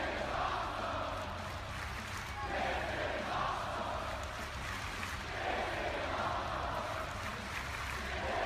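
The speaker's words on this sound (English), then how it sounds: "we pump up the artificial crowd just like the Super Bowl did for Bad Bunny" Artificial crowd noise pumped in as background ambience, a steady diffuse roar of many voices with gentle swells throughout, moderately loud and continuous with no distinct talk.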